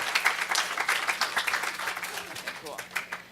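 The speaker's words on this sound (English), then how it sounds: "Let's give her a round of applause, guys." An audience applauds at a live quarterly event, with steady, dense clapping that tapers slightly toward the end.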